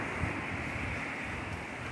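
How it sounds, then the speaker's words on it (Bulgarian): A mountain river near Hubavets hut, at about 1000 metres, rushes in a steady, dense roar throughout, mixed with wind noise on the microphone and no voices. "Ето реката."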